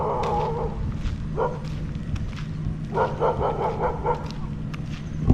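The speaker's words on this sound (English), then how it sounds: "I think that's a dog that's either a guard dog or belongs to a house," A dog in Thailand, either a guard dog or a house dog, barks in short repeated bursts at a moderate distance amid outdoor background noise, with no one talking.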